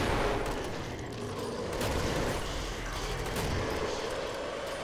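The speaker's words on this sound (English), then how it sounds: "I'm gonna Zed gun the shit out of him." Rapid bursts of sci-fi weapon fire from a Zed gun in a video game, dense and loud throughout with crackling, gunfire-like impacts and mechanical clatter, no clear speech.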